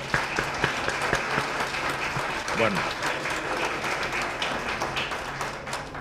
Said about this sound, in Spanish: creo que con ese aplauso realmente agradecemos mucho la presencia del doctor Benjamín